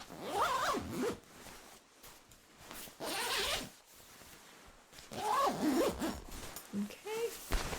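A zipper on camping gear such as a sleeping bag is pulled open and closed in several slow, close, crisp rasping strokes with quiet pauses between them, recorded in a hushed close-mic setting.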